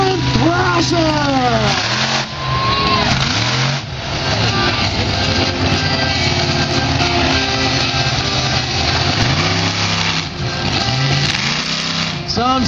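A Toyota Thrasher monster truck with an engine of about 1800 horsepower revs hard at a spring mud event, its loud engine rising and falling in repeated surges, with a voice talking over it.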